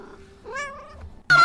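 A cat-like creature from the Ahsoka series lets out a single short, rising meow, clear and close, and a louder burst of sound cuts in right after it.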